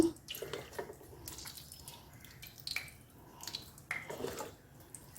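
Wet squishing and dripping as soaked soya chunks are squeezed by hand, with water trickling away in small, close bursts.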